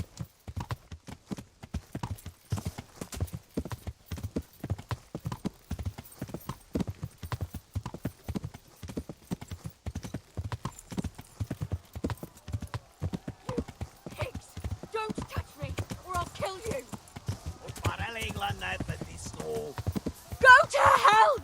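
Horse hooves clip-clop steadily in the medieval video game Kingdom Come, a long regular gallop rhythm up close, with voices and commotion building toward the end.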